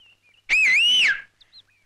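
A single person whistles one sustained, wavering note of about three-quarters of a second, loud and close, with near silence before and after; from a Tamil film comedy scene.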